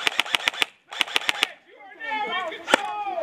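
Airsoft gun firing in an indoor CQB arena, two quick bursts of about five sharp snapping shots each, close and loud, followed by someone talking and one more single shot.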